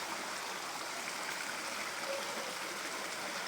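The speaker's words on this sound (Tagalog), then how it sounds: "Ayun oh. Sapa." A flowing stream at dusk in a rural area, a steady faint broadband rush of water that continues evenly without pause.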